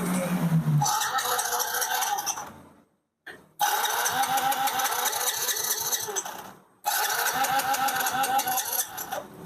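A Yamaha Mio GT scooter cranks and catches three times, each burst of engine noise cut short by a stall and brief silence, close and loud with no talking.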